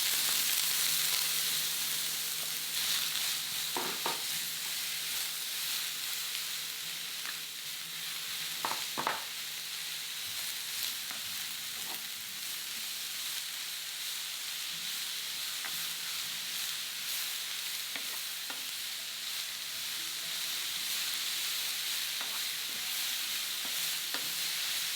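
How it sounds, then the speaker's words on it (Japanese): Daikon radish and dried shiitake mushrooms stir-frying in a pan, a steady close sizzle with occasional stirring scrapes running throughout, no voices. "大根と干し椎茸を加えて炒めます"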